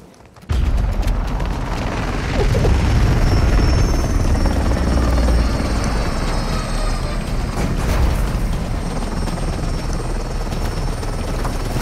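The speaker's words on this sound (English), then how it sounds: "Get to that chopper." A helicopter in Call of Duty Warzone 2.0 kicks in abruptly and holds a loud, steady rotor thrum with a dense rumbling roar, close and continuous for about eleven seconds, with no talking over it.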